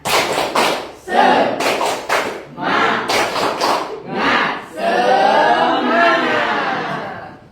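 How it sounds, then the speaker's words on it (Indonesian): Schoolchildren in a classroom perform a rhythmic spirit clap, with loud bursts of clapping and slapping in a patterned beat. Children's voices chant along between the claps, and the routine ends in a sustained cheer. "kita tepuk semangat lagi nak ya, biar lebih semangat lagi mengerjakan ya nak ya"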